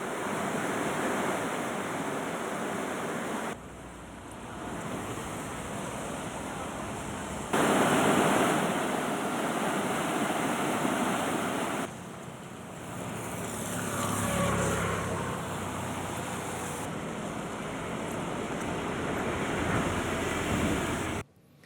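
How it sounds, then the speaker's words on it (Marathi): Water roars continuously from a waterfall at Parshuram Ghat on the Mumbai–Goa highway, overflowing after heavy rain. The broad, loud rush carries on throughout, with buffeting wind noise and a few abrupt level shifts. "मुंबई गोवा महामार्गावरील परशुराम घाटात असलेला सवत्सडा धबधबा ओसंडून वाहू लागला।"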